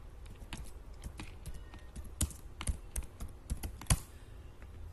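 Fingers type a name on a laptop computer keyboard while entering data in Excel, giving a run of quick, uneven key clicks, close but soft.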